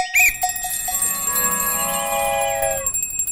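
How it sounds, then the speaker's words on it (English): A quick cluster of podcast sound effects: a sharp bell ding and rising whistle-like tones, sliding and overlapping for a few seconds before fading out. "Just add bells and whistles."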